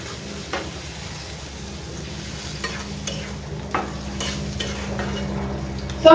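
Tomatoes being stirred and sautéed in a pan while cooking tilapia fish curry: a soft continuous sizzle with scattered scraping clicks from the spoon, ending in a louder clatter.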